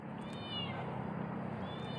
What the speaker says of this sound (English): So now we got a kitty cat